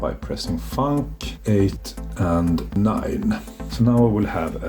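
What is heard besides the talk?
No everyday noise stands out behind the speech.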